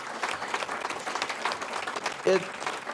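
An audience claps at an alumni business awards evening, a full round of applause with speech running over it and a brief louder burst near the end.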